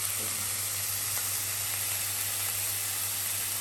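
Bean sprouts stir-fried in a hot pan with oil give a steady, even sizzle and hiss that holds without pause, with a low constant hum beneath.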